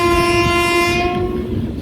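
The Mannargudi–Mayiladuthurai unreserved express sounds a loud, sustained horn close by over the rumble of the running train; the horn fades out partway while the rolling wheel noise continues.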